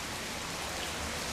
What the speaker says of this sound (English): It's just sprinkling. Just raining. Normal rain.